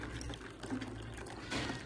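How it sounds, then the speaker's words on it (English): Water is strained out of a bowl into another bowl for a home remedy, a faint, short trickling pour in a quiet kitchen. "Now I'm just going to strain out the water into another bowl."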